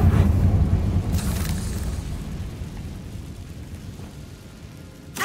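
A Confringo blasting spell in Hogwarts Legacy bursts with a loud, heavy boom that rumbles and slowly fades over several seconds, ending with a sharp crack.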